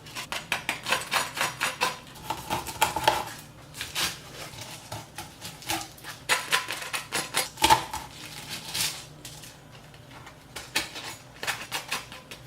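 A knife cuts open dried chili peppers for an enchilada red sauce, crisp crackling snaps and papery rustles in irregular bursts, close by with no talk.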